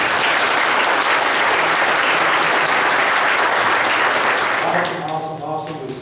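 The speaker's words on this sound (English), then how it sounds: "Y'all give her a round of applause." Audience applause for a homecoming queen during a church service at Trinity UMC, a dense, steady wash of clapping filling the room before tapering off near the end.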